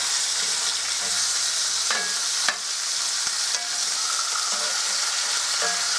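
Breakfast sandwich fillings crowded into a pan too small for them, frying under a loud, continuous, close hiss with a few faint clicks and scrapes from a utensil, and no talking.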